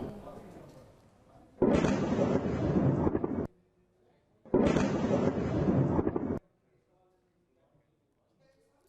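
Two loud, rumbling explosions from US airstrikes in Khuzestan, Iran, each lasting under two seconds, separated by a short pause and followed by near silence.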